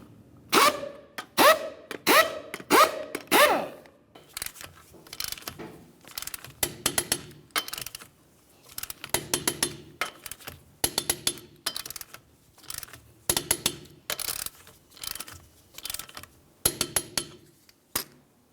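Lug nuts on a Ford Transit Connect wheel being run down and tightened with a hand wrench, 19mm socket, giving repeated bursts of quick metallic ratcheting clicks separated by short pauses, close and fairly clear.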